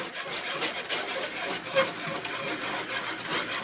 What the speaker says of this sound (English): now I like to use a whisk